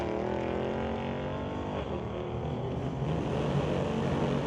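Engines of a 2016 Subaru SUV and a 2022 5-liter Mustang drone loudly and steadily side by side at an NHRA drag race, a continuous roar with layered harmonic tones and no voices.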